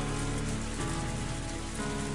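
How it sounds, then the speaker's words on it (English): A heavy rain downpour in the Higurashi visual novel, steady and dense with drops hammering a surface and no break or voice. "this was a downpour"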